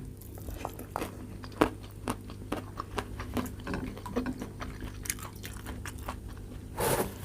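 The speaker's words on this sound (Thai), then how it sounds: "มันกัดไปแล้วมันนุ่มดีอะ" Someone bites and chews crispy fried food, garlic and pork belly fried until crunchy, giving a series of sharp, close crunches at irregular intervals over a faint steady background hum, with no talking.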